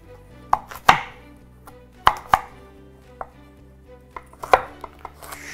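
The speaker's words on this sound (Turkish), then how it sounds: "Önce şunları doğrayayım." A knife chops vegetables for a baked chicken and vegetable pilaf, landing sharp, close cuts on a board in an irregular rhythm with short pauses between. There is no talk.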